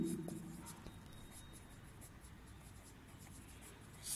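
Faint, continuous scratching of a pen or pencil writing on paper, close and quiet, running without a break under a low background hiss.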